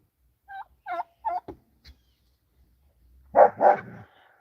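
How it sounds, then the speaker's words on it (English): A few short, sharp dog barks at moderate distance, followed after a pause by two louder, closer barks. "These dogs like to bark because there's a dog across this"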